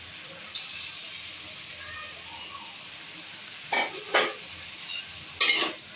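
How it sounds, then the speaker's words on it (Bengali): Chopped ivy gourd leaves and jackfruit seeds are stirred in a frying pan, a soft steady sizzle under a few short scraping bursts of the spoon against the pan. "দিয়ে আমি নাড়াচাড়া করে দিব"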